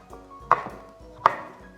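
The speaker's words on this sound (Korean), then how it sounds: "여기 있는 이 부분을 겉껍질을 3등분을 하고 얘를 이대로 채를 한번 썰어줄게요" A knife strikes a cutting board while julienning cucumber peel, two crisp, separate chops with a few softer taps between them, close and clear with no speech.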